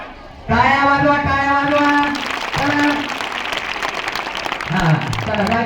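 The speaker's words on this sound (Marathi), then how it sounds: "टाळ्या वाजवा" Applause from an audience at a mothers' and parents' gathering with haldi-kumkum competitions, a dense clapping texture that builds and holds under a loud amplified voice.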